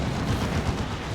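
A Venom Cannon fires during a Dawn of War 2 battle, producing a loud, dense rumble of booming impacts that blur together into a continuous heavy barrage across the short stretch.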